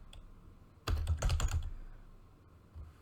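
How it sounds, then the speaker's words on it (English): Brief burst of typing on a computer keyboard, a quick cluster of close key clicks lasting about half a second, then quiet room tone with one faint tap near the end. "I just type in my name."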